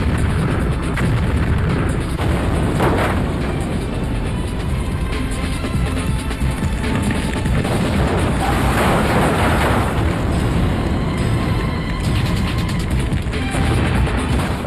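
Cars explode in a video in a dense, continuous rumble of booming blasts and crackling bursts that stays loud throughout with no quiet gaps.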